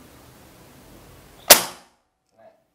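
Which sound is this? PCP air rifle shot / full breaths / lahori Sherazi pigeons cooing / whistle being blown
PCP air rifle shot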